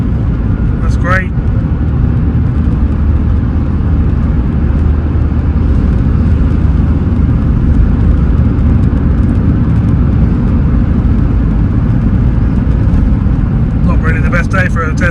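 Suzuki Swift VVTS GLX car on a test drive over slippery roads, with a steady low engine and road rumble throughout, and a few brief higher rattles or squeaks near the start and end.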